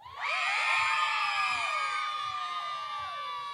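A festival concert crowd of fans at Lago da Perucaba during São João in Arapiraca shouts, screams and cheers for a singer, a dense, distant mass of overlapping high voices that swells quickly and holds steady.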